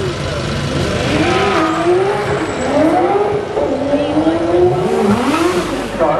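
At the Brighton Speed Trials a car accelerates hard, loud engine notes climbing through repeated gear changes as it sweeps past, with a voice talking over it.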